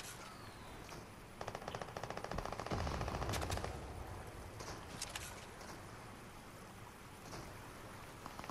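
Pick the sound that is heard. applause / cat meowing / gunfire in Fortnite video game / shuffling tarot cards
gunfire in Fortnite video game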